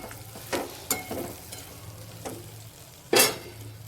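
Stuffed okra masala stirred in a frying pan with green chillies, with a low steady sizzle broken by several sharp scrapes of a spoon against the pan, the loudest near the end, and no voice.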